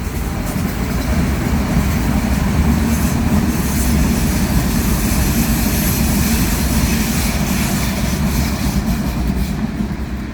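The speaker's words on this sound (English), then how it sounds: "I'm sitting on a bench close to the train track and enjoy watching the trains pass." A train rolls along the railway track beside a bench, a steady, loud broadband rumble and rattle of passing cars that holds for the whole stretch without any voices.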